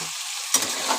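Green jackfruit, salted, frying in a pan gives a steady, fairly loud sizzle for about a second, with one brief stir or scrape near the middle.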